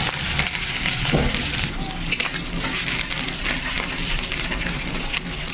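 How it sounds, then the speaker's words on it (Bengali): Onions frying in hot oil in a wok, giving a steady, loud, dense sizzle that runs the whole way through, with a few faint clicks and stirring scrapes on top and no talking. "গরম কড়াইতে তেল দেওয়ার পর তেলটা গরম হয়ে গেলে পেঁয়াজগুলো দিয়ে দেবো"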